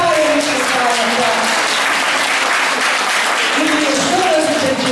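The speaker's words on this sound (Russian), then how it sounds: "Приступаем к аплодисменту." Audience at a school concert for Teachers' Day clapping steadily and loudly throughout, a dense sustained applause with voices mixed in.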